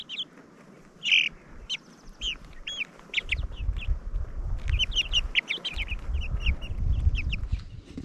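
Chickens cluck and squawk inside a coop with pine-pellet bedding, making several short, close calls over soft rustling and scratching, with no voices.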